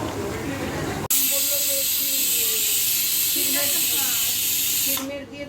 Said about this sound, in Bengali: এদিকে বিরিয়ানির মাংসটা কষাচ্ছি